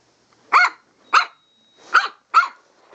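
A Shih Tzu barks four times in short, sharp, evenly spaced bursts, close and loud against an otherwise quiet room.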